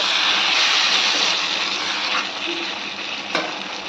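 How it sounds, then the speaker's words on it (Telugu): Goat liver and kidney curry with drumsticks frying over a high flame, giving a loud, steady broadband sizzle that fades slightly after two seconds, with one brief clink near the end. "ఇప్పుడు హై ఫ్లేమ్ని ఒక టూ మినిట్స్ మంచిగా ఫ్రై చేసుకోవాలి"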